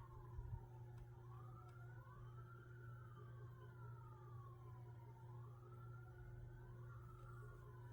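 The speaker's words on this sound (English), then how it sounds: "Oh, siren's going by." A siren wails up and down steadily over a low constant hum, continuing without pause throughout, moderately distant.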